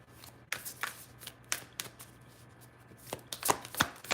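Moonology oracle card deck being shuffled by hand, with a series of crisp, quiet riffling and tapping bursts at irregular intervals and no talk.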